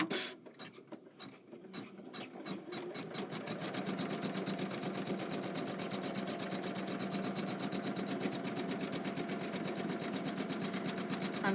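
A Kimberbell embroidery sewing machine stitches lettering onto a Wet My Plants garden mat, its fast steady needle chatter running loud and continuous after a brief softer start, with no voices.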